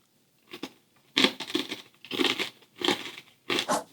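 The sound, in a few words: crunching peanut brittle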